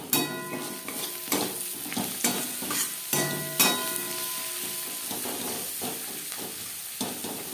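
Onions fried to reddish in a pan, stirred with turmeric powder and salt, a loud close sizzle broken by repeated spoon scrapes and knocks against the pan, with no talking.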